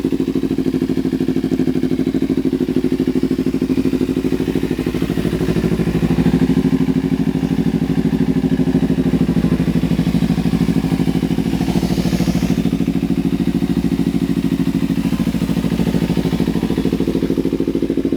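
A Kawasaki Ninja 300 ABS idles close by, its engine and exhaust giving a loud, steady throbbing drone that swells slightly midway before settling back.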